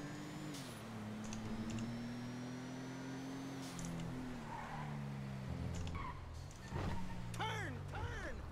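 A turbocharged car in GTA V drives with a steady, rising engine drone, then its tires squeal in a few sharp bursts near the end, with keyboard clicks heard faintly at times.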